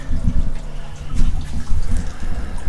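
Water gushes and splashes loudly and steadily as the water pump comes off a Unimog U1300L truck engine. The rush is close, with some trickling and dripping mixed in, and no one speaks.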